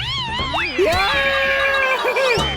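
A cartoon cat character screaming, a loud, close, wavering shriek with sweeping pitch slides and shaky glides, sustained for over two seconds.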